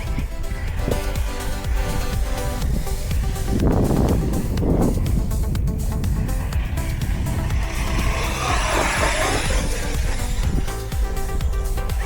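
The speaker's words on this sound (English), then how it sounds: "As I'm driving the Fireteam around the track right now" An Arrma Fireteam RC car driven around a club track, its electric motor whining and surging as it passes, with the roar swelling and fading mid-run and continuous rushing noise throughout.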